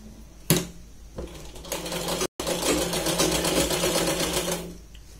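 A sewing machine runs in a steady rapid whir, stitching the folded neckline of a Punjabi dress. A short burst comes first, then a brief stop and a longer continuous run, close by with no talking.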